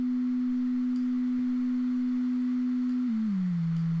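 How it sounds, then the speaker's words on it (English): A pure sine wave tone holds a steady low pitch, then glides down slightly near the end. It stays quiet and alone against faint background hiss. "It's a sine wave."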